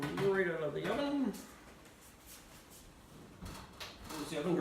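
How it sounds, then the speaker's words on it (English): An oven door opens with a short drawer-like thud and slide as a tray of stuffed mushroom caps is taken out, heard close under a person talking. "And we'll bring them right out of the oven."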